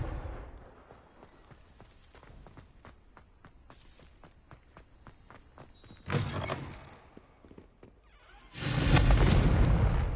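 A Confringo fire spell explodes in Hogwarts Legacy: a run of sharp, evenly spaced spell cracks builds to two loud, roaring blasts near the end, heard alone without talk.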